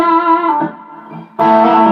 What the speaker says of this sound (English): I'm using my Keeley 30 millisecond double tracker for reverbs.